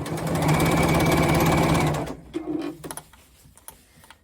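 A sewing machine stitches quilt binding in a loud, steady whirring run for about two seconds, then stops, leaving a few faint handling clicks and rustles.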